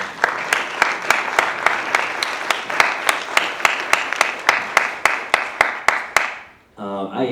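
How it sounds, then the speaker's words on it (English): An audience at a film screening claps in strong, rhythmic unison for about six seconds before the applause cuts off and a voice begins speaking. "So another round of applause for the filmmakers"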